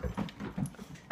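A dog whimpers outside a door, wanting to come in, giving several short, soft whines and whimpers close by over about a second.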